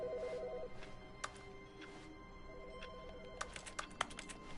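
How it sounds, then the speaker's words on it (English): A telephone rings in The Stanley Parable, repeated electronic trills in short bursts, fairly faint, with clicky keyboard typing tapping in between and over the rings. "Oh, the phone."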